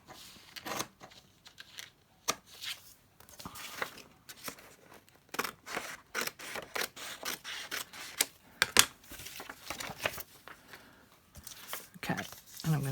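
Scissors roughly cutting a scrap of paper for a banner pocket in a papercraft project, giving a run of close, irregular snips and rustles spread across the whole stretch, with no speech over it.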